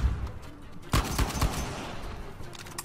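Gunfire in Uncharted 4: A Thief's End, a few close, punchy shots clustered together over a dense background of combat noise, with no talking.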